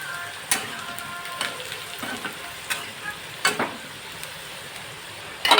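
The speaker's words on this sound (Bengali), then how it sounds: "এবার দেখুন, আমি আলুটা ভাজা ভাজা হয়ে গেছে।" Potato and onion frying in a pan with a bit of salt, a soft sizzle running throughout while a spoon scrapes and stirs in several sharp clinks and scuffs, close and moderately quiet.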